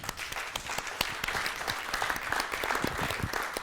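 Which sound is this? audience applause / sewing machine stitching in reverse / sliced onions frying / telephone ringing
audience applause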